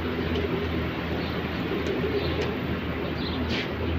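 Several pigeons kept in a Saudi Arabian coop coo continuously, soft repeated low calls blending with a few brief higher chirps over steady ambient noise.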